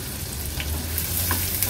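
Finely chopped medium onion frying in hot oil on a low flame for a Kolhapuri whole masoor dish: a steady, close sizzle with soft stirring scrapes and no voices.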